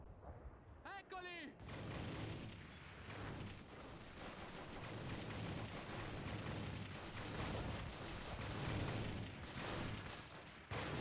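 In a Call of Duty: Road to Victory battle, anti-aircraft cannons fire in a dense, loud, continuous barrage of booms and blasts. A brief voice is heard at the start before the rumbling gunfire takes over.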